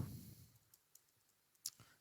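A computer keyboard is typed on while C code is written: a handful of faint, sparse, close key clicks scattered across a quiet background.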